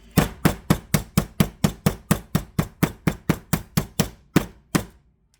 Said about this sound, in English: And then pound it down.